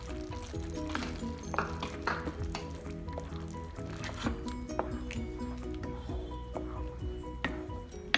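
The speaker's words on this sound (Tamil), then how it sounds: "நல்லா கொதிக்கட்டும்." Spice paste mixed with half a cup of water bubbles and sizzles steadily in a cooking pan, with light scraping and stirring clicks over a continuous simmering hiss.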